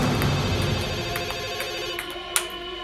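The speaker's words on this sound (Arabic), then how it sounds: "قوم رد على التليفون" A phone ringtone warbles in repeated tonal pulses under busy background sound in a dubbed television drama scene, holding steady for a few seconds with a sharp click near the end.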